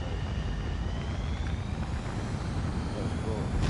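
A fighter jet taking off in a flight game: a steady, loud engine roar and wind rush that hold throughout, with faint talking in the background.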